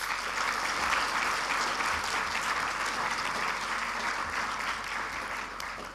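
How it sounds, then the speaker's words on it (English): Steady audience applause at a youth dialogue session, a sustained wash of clapping from a crowd that continues evenly and fades slightly at the end. "Another round of applause for Ms. Goh, please."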